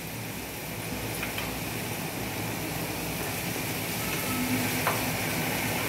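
Turmeric and Pathare Prabhu sambar masala sizzle in hot oil with onion and tomato while taro is fried, a continuous dense hiss with occasional stirring scrapes.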